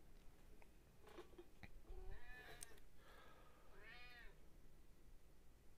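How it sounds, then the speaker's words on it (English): An angry indoor cat gives several faint, drawn-out meows and a wavering complaint against a low background hiss, with no speech. "We have an angry kitty."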